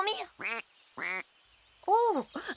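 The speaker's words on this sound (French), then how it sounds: "les canards font trop de bruit" Cartoon ducks quacking in a few short, nasal bursts with pauses between, close and fairly loud, in an animated children's show.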